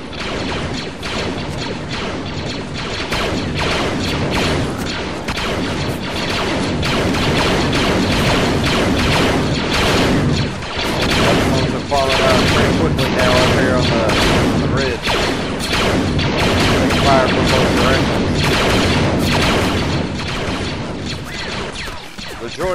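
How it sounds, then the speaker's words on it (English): Sustained gunfire and explosions from the Clones of War Mod game, clone captain and sergeant firing toward a ridge line as droids attack an outpost; loud, dense, continuous volleys with booms throughout, under speech. "You click captain and sergeant are opening fire up there towards the ridge line"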